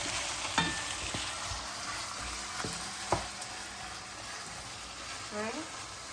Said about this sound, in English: I'm gonna let it cook. I'm gonna keep stirring it